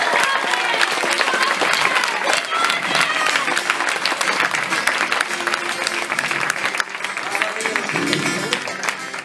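Sustained audience applause at a cabaret show in France, dense steady clapping from a crowd that holds at full volume throughout.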